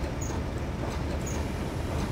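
Rumbling train in Train Simulator 2015 runs steadily throughout, a dense low rolling drone with faint high squeals and no talk.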